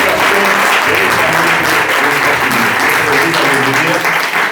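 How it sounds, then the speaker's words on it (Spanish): A church congregation at a missions service gives loud, sustained applause, dense clapping filling the space without pause from start to finish. "le damos un fuerte aplauso al Señor"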